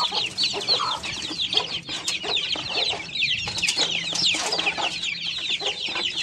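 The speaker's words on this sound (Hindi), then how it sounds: "ये बाहर निकल आए हैं सारे चूजे, और ये अंदर मुर्गियों ने सिखा रही है कि कैसे दाना खाते हैं" Hens and chicks in a farmyard coop keep up a continuous, busy mix of clucks and high peeping close by, overlapping without pause.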